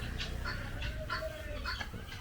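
Guinea fowl on a poultry farm, startled and calling in a series of short clucking chirps spaced across the clip, faint and somewhat distant over a low background rumble.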